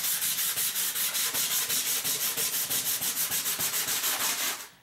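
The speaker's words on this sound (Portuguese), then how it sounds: "Aí eu vou lixar ela toda e volto com vocês." Rhythmic back-and-forth sanding of a plaster-coated shoebox chest, steady scratchy strokes at an even pace, close and clear, alone with no talk.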